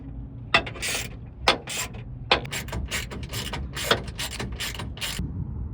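A ratchet wrench tightening roof panel bolts on an OVS Expedition truck cap, with repeated short clicking strokes in regular bursts, close and fairly loud, with no talking.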